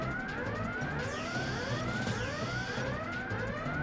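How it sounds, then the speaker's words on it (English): Video game sirens wail in overlapping rising and falling sweeps that repeat steadily over a dense, continuous background rumble, with no voices present. "Sirens going off."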